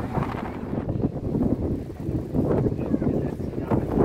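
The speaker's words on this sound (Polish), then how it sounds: "mamy niesamowity wiatr" Steady roar of strong wind on a pier by the beach in Kołobrzeg buffeting the microphone, loud and continuous with gusty swells throughout.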